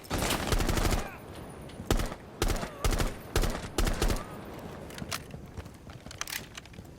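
Bursts of automatic rifle fire in Rainbow Six Siege, fired with recoil control: several sharp, tight volleys, loud and close, separated by short pauses, with faint footsteps and clatter between them.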